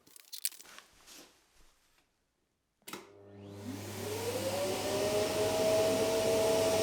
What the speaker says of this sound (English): we do really suck air through that MDF board